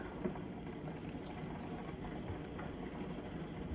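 Heavy rain falling outside, a steady, even wash of patter and hiss that continues without pause, moderately loud and with no voices.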